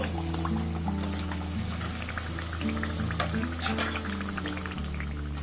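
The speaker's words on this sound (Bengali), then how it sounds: "একইভাবে সবগুলোকে আমি ভেজে নেব।" Khaja pastries fry in oil in a pan with a steady, moderately loud bubbling hiss and scattered crackles, accompanied by a persistent low hum and no talking.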